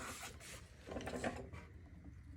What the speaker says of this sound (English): With my screwdriver, and it's going to get nice and snug in there.